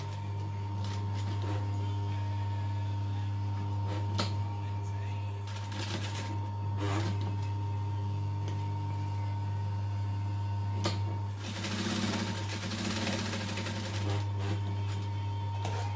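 A sewing machine stitches a zipper into a fabric bag in short bursts of rapid mechanical clatter, separated by quieter pauses filled with small handling clicks over a low steady hum.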